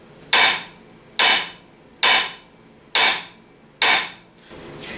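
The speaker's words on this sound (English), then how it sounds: "Now I'm going to try that with the Trusty-Cook hammer. I'll hit it with the exact same amount of force right here." A Trusty-Cook dead blow ball peen hammer strikes five times in a steady rhythm, each blow a sharp, loud, close impact with a short decaying ring and no voices.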